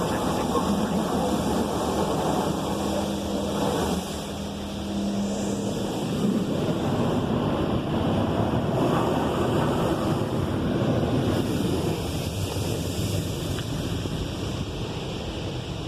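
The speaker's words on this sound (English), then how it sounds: "So that was the high pressure rinse." A PDQ Laserwash 360 Plus automatic car wash at an Ontario auto wash runs its high-pressure rinse, giving a steady loud hissing spray with a whooshing wash over the car and a faint mechanical tone beneath, heard from inside.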